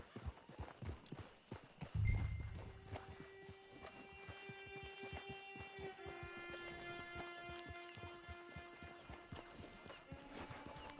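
Horse hooves clip-clop steadily in Red Dead Redemption Online, a brisk even walking rhythm heard close, with a brief thump near the start and sustained music tones underneath.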